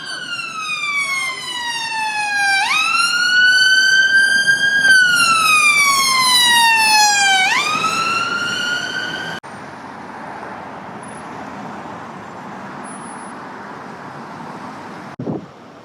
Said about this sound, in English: Let me just get this ambulance.